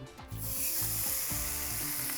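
Steak searing in a tablespoon of oil in a pan preheated over medium heat, giving a loud, steady, dense sizzle and crackle that runs throughout, with no voices.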